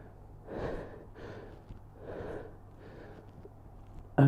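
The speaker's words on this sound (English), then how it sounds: "Hopefully my microphone isn't picking up all that heavy breathing." Heavy, gasping breaths during a home kettlebell leg workout, several loud exhales in a slow uneven rhythm, close to the microphone, ending in a sharp loud burst.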